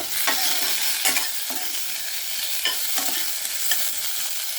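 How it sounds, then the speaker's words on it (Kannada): Tomato sautéing in a pan with lentils, green chilies, curry leaves, fenugreek seeds and asafoetida, a loud steady sizzle broken by repeated scraping stirs of a spoon. "ನೋಡಿ, ಈಗ ಟೊಮೆಟೊ ಹಾಕಿ ತಾಳಿಸ್ತಾ ಇದ್ದೀನಿ."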